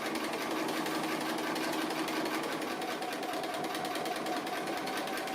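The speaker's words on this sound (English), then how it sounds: "when you start and stop you can just do a couple of stitches on top of each other, and that locks the thread" Close, steady mechanical hum and rapid rhythmic stitching of a sewing machine doing free-motion stitching on applique fabric, running continuously at moderate loudness with no voices.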